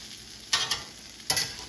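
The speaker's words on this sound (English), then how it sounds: "Here's a little bit of that sizzle." Sloppy joe meat sizzling on a hot griddle with a steady high hiss, broken by a few louder scraping stirs.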